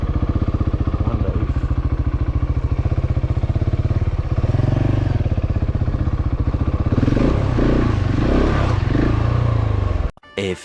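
Husqvarna 701 and SWM 650 SuperDual X motorcycles ride the backroads, their single-cylinder engines thumping loudly and steadily up close with throttle surges and some road clatter, before the sound cuts off abruptly at the end.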